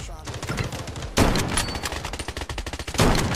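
Rapid automatic gunshots in the Blood Strike shooter, a fast rhythmic string of close, punchy shots with a couple of louder bursts, with faint voices in the background.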